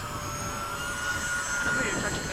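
Radio-controlled model jets, an F/A-18 and a Hawk, roar past at Bayside in a steady whining turbine rush that swells slightly, with faint voices underneath.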